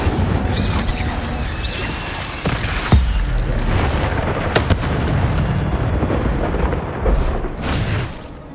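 A fiery Incendio spell blast erupts in the Hogwarts Legacy video game, a loud rumbling boom with crackling bursts and sharp impacts layered through several seconds of dense battle noise.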